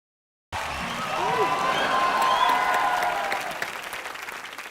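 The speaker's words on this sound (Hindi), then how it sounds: "इतना लोग के सामने कभी ऐसा मेरा ताली नहीं बजा है" Studio audience at a Hindi comedy show bursts into applause, a dense clatter of clapping that swells and holds, with a voice speaking over it.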